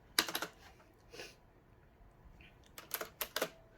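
A Cosmic Byte CB-GK-27 RGB mechanical gaming keyboard with blue switches is typed on in two clicky bursts of rapid keystrokes, separated by a short quiet pause, heard close up.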